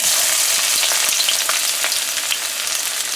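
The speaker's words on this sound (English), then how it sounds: "We're going to fry our onions for a little bit." Loud, steady sizzling and crackling of onions frying in a pan, close up and continuous with no voices.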